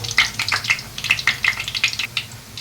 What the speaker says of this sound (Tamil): நம்ம எல்லாத்தையும் இதே மாதிரி ஆயிலில் போட்டு ஃப்ரை பண்ணி எடுத்துக்கலாம்